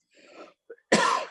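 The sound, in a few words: cough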